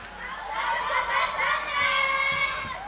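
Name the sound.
audience applauding and cheering for candidate 2's support team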